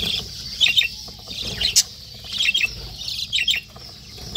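Pet birds in a home colony chirp in short bursts while eating water spinach, bright tweets scattered across a few seconds with soft rustling and faint flutters in between, close by and without talk.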